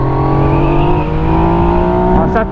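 A 2017 Yamaha MT-09 motorcycle with a quickshifter accelerates hard. Its engine sounds close and loud, with a rough, rising harmonic growl and a quick change in pitch near the end.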